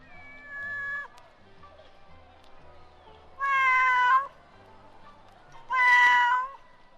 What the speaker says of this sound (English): How much do you want for your cat?